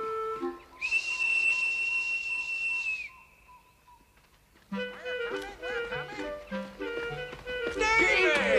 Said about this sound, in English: Hey, I hear a whistle.